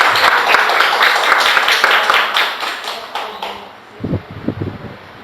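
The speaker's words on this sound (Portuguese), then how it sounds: "Pode dar um aplauso ao Senhor Jesus?" A church congregation applauds in a dense burst of clapping that fades out after a few seconds, then a few voices are heard close by.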